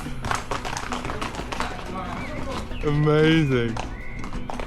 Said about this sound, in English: Wrangling horses.